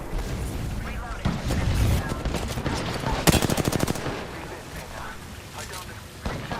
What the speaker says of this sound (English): I am taking fire.